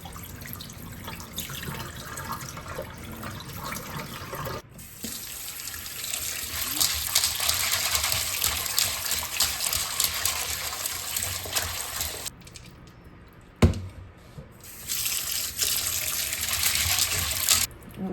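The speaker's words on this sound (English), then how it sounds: "now I'm just going to kind of give it a rinse or two" Dried hominy being rinsed under a running tap, the water gushing steadily into a sink or bowl for long stretches, pausing briefly before the flow resumes.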